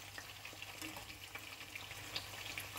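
Food frying in a covered pan, a dense, even sizzle with scattered pops and crackles, close and fairly quiet, continuing without talk.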